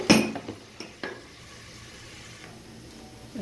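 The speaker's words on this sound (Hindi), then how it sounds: "प्याज को ब्राउन कर लेते हैं।" Onions are stirred as they brown in a pan, with a few sharp clinks and scrapes of a spoon against the pan early on over a faint, steady sizzle, fairly quiet and without talk.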